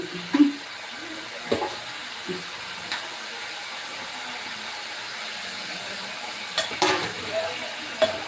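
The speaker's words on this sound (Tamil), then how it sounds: "நல்லா வதக்கி விடுங்க அப்போதான் நல்லா இருக்கும்" Potatoes for a kurma sauté in a pan, giving a soft, steady sizzle broken by occasional sharp stirring knocks and scrapes.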